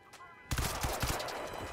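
Gunfire from the shooter game Crysis 2 bursts in after a short quiet lead-in, a rapid volley of loud, close shots that keeps up steadily to the end.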